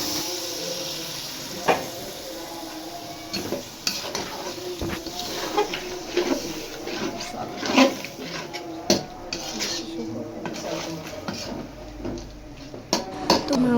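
Meat sautés in spices in a pot, giving a low sizzle under repeated scrapes and clinks of a metal spoon against the pot, close and fairly quiet.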